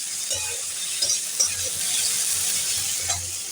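Ginger paste and chopped tomato sizzle steadily in a hot pan, a continuous frying hiss with occasional soft pops and stirring scrapes, close and alone with no talk.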